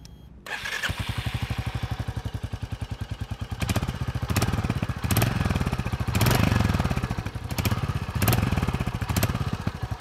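A Royal Enfield Hunter 350 motorcycle engine starts and idles close by with a fast, even exhaust putter, briefly revving several times in short bursts.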